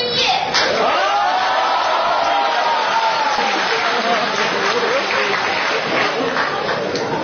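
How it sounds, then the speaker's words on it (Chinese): Audience applause at a traditional Chinese crosstalk stage show with two performers: a dense, steady wash of clapping from a large crowd fills the whole stretch, loud and close, with a voice speaking over it. "谢谢朋友们的热情掌声"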